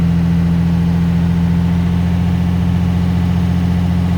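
A 2003 Freightliner SC-8000 truck engine runs at a steady, loud idle, a deep even drone with a constant low hum and no change in pace.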